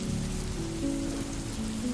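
Steady rain falls in an even, soft hiss that continues without a break, with faint low tones underneath and no voices.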